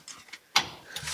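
Quick mechanical clicking of a ratchet snugging up bolts on an Invidia Gemini exhaust fitted to a Nissan 350Z, a few short close clicks and a sharper metallic bump.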